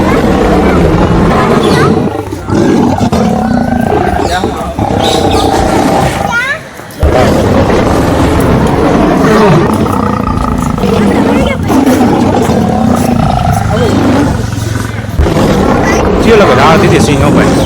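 A caged lion at Sakkarbaug zoo in Junagadh roars in deep, rough bursts during light rain, heard amid a crowded festival gathering with constant chatter and children's voices.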